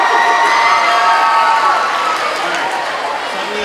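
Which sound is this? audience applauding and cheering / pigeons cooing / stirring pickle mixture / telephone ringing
audience applauding and cheering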